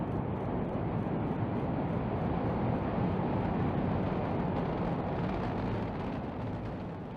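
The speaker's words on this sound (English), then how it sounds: "this rocket lifted off from the Wenchang Space Launch Site in Hainan" Long March 5 rocket lifting off from the Wenchang Space Launch Site in Hainan, China: a sustained, loud, broadband roar that rumbles steadily throughout and eases slightly at the end, with no voices.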